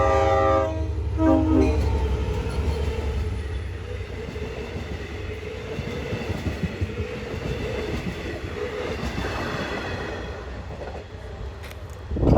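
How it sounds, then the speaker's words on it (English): Passenger train engine 400 leaves the Patchogue station on eastern Long Island, sounding a loud horn blast as it approaches, then a heavy, steady rumble and clatter of wheels as the cars roll past close by. "here's engine 400 passing by, headed out to Montauk Point, leaving from the Patchogue station on eastern Long Island"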